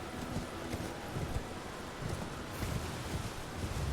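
Horse hooves thud at a steady gallop while riding in Elden Ring, with a rushing wind-like hiss over the whole stretch and no voices.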